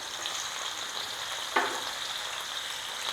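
Tomatoes and onions sautéing in a pan of oil for a Tamil vaval (pomfret) fish kuzhambu, giving a steady close sizzle throughout with one brief clatter partway, no voices.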